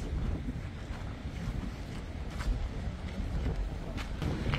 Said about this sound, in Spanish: Está fuerte el viento, mire.